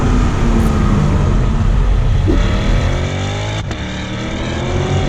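A 2020 C8 Corvette Z51 accelerates hard on an open road, its engine note climbing through rising revs with a quick shift break partway, loud and close with rushing wind and road roar.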